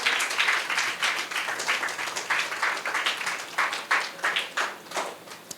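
A church congregation claps loudly in unison, a steady run of sharp, rhythmic hand claps from many people filling the room during a pastor's service.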